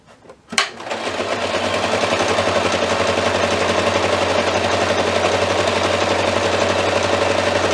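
A sewing machine quilts layers of a quilt-as-you-go table runner with a fabric strip on top, starting after a sharp click and then running loud and continuous with a steady droning hum.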